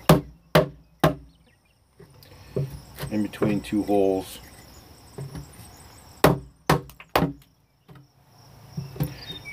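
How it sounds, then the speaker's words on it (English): Sharp, loud wooden knocks strike in a few quick bursts as a hammer knocks out timber between bored mortise holes, separated by a stretch where someone speaks, with crickets chirping faintly behind. "we got to just hammer out this little piece here"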